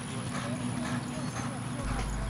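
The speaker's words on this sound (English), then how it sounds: "Let's move out to the racetrack now and see the horses in motion." Horses move at a racetrack, their hooves giving a repeated clip-clop over a steady outdoor background, with faint voices underneath.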